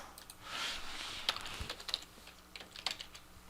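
Computer keyboard keys tapped while entering a spreadsheet array formula: a short run of close, light clicks and taps with uneven rhythm, ending in a Control Shift Enter key combination.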